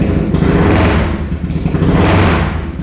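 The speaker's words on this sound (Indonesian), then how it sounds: "Ketika digas motor goyang gitu, goyang." A BMW R nineT motorcycle engine with a free-flow exhaust revs loudly and steadily up close, its throaty roar swelling twice over a few seconds.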